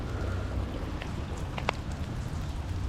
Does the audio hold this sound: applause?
no